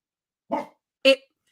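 Dogs barking at someone outside, two short separate barks, close and loud against silence.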